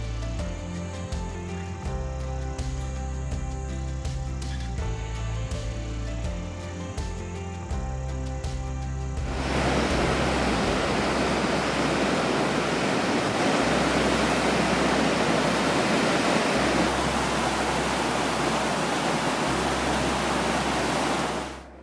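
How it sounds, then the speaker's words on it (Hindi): Kankul Ganga river water rushing steadily on a mountain trek trail in Uttarakhand, a loud continuous broadband roar filling the second half after a stretch of music. "हमारे दाहिनी तरफ कनकुल गंगा अभी भी बह रही थी, जिस कारण पानी का शोर हम लोग पूरे रास्ते सुनते रहे।"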